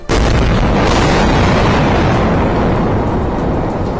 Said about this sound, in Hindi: गाजा पर रात में हुए हमले की जो तस्वीरें सामने आई, उनमें एक में तो इतना जोरदार धमाका हुआ